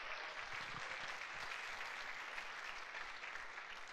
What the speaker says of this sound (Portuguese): Por favor, dê um aplauso ao Senhor Jesus.